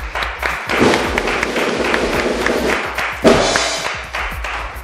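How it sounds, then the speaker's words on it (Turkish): Audience applause at a festive Azerbaijani variety show, a dense wash of clapping sustained throughout with a brief swell near the end, loud and close. "Alkışlayak onda."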